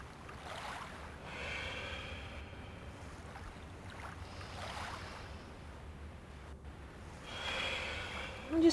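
Slow, deep breaths drawn in and out through the nose while holding a yoga stretch, soft and close, with gentle breathy swells repeating every few seconds.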